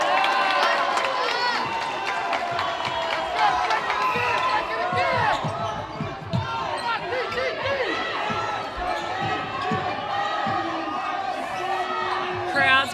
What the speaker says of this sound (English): Crowd's getting louder and louder as we approach the final minutes